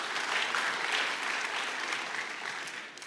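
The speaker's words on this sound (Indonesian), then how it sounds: "Tepuk tangannya juga karena disuruh" A church congregation at a sermon applauds in a continuous, moderately loud wash of clapping that holds steady from start to finish with no voices over it.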